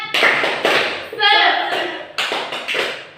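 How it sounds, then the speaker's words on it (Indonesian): Classroom pupils clapping a rhythmic morning spirit clap in sharp bursts of synchronized claps, separated by short pauses, loud and close, with children's voices chanting between the claps. "kita bertepuk semangat dulu ya, biar paginya semakin semangat"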